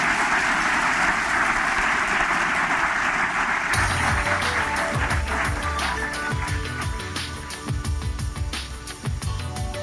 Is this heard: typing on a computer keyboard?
no